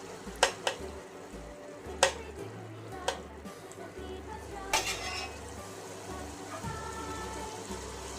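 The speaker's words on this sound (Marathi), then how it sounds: "बटर छान असं मिक्स करून घ्यायचं" Butter stirred into paneer veg pulao in a pan, a soft sizzle beneath sharp scraping and clinking strokes of a spoon against the pan, close and fairly quiet.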